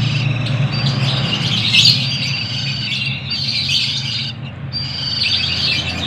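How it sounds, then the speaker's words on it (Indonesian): Many birds chirp and tweet continuously by a busy roadside, bright overlapping calls with a squawk or two, loud and close, backed by a steady low rumble of traffic. "mohon maaf teman-teman kalau di sini berisik ya, di sini banyak burung"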